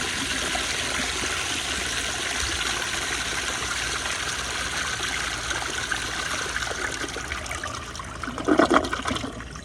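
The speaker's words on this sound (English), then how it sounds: "I turned on the flushometer a little bit more, and I let the tank fill up some more, so it should be plenty enough to flush it" A 1998 American Standard Cadet spacesaver toilet on a flushometer flushing with a steady, rushing wash of water that runs at even strength for several seconds, then swells into a louder gurgling surge near the end.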